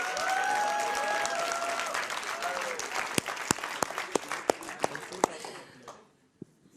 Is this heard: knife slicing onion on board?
no